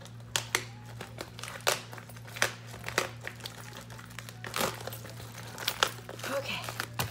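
A package being unwrapped by hand, with crinkly plastic and paper rustles, tearing and scattered clicks, close and irregular, over a steady electrical hum.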